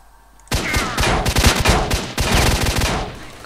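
Rapid automatic gunfire in S.T.A.L.K.E.R. Shadow of Chernobyl, loud and close, bursting in after a quiet moment and continuing in dense strings of shots with short gaps.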